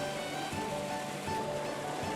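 A small, clear mountain stream of spring snowmelt, mineral-rich spring water in a Japanese national park, flows with a steady, close, full rush and no voices.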